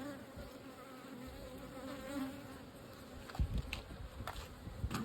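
Dense buzzing of many honey bees on a hive frame fills the air close by, a steady hum with a few louder bumps and rustles near the end.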